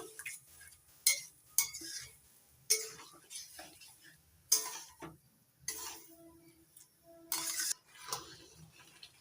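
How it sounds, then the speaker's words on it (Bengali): Boiled red lentils being stirred into a pan for a Malabar spinach and katla fish roe dish: soft, intermittent scraping and light utensil clinks, faint and close, with quiet gaps between strokes. "এবার দিয়ে দিচ্ছি সেদ্ধ করে নেওয়া মুসুর ডাল ভালো করে নাড়াটা একটু মিশিয়ে নেব"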